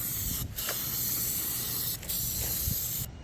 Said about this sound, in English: I'm going to give this one coat of black spray paint.